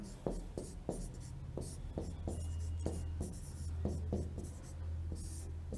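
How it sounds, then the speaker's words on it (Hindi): Chalk or a marker taps and scratches across a classroom board as an ecology lesson definition is written out, in a quick run of close, rhythmic strokes with a faint voice in the background. "यहां पर ही मैं लिख देता हूं"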